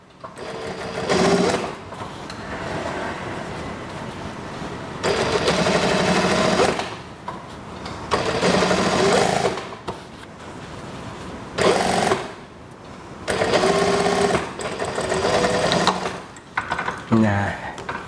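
A sewing machine stitches a plain school skirt waistband in bursts of rapid mechanical whirring separated by pauses, with a person talking softly between runs.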